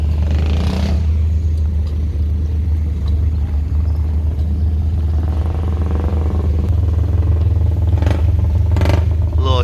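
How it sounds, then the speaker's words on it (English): A nearly 100-year-old four-cylinder car engine idles at a car show, giving a loud, steady low rumble with continuous clatter and a few brief louder bursts. "A little shot of the engine right here."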